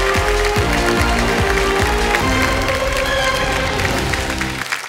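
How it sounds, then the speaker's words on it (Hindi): Steady applause from a game show studio audience on Kaun Banega Crorepati, dense and continuous clapping with some low thumps, fading slightly at the end. "तो एक बार फिर तालियों के साथ आपका अभिनंदन"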